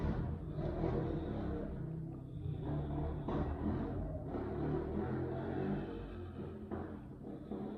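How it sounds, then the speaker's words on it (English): A motorcycle rumbles along a street in Mexico, its engine revving and droning at moderate distance in waves that swell and fade as it rides up and down. "If you can hear that motorcycle, I apologize."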